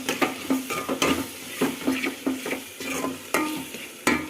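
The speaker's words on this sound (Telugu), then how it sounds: "కొంచెం వేసేసిన తర్వాత అలా ఇలా కలుపుకుంటే బాగా కలిసిపోయిన తర్వాత" A spoon scrapes and stirs a tomato rice mixture with chilli powder in a pan, rhythmic strokes about twice a second over a soft sizzle, close and fairly quiet.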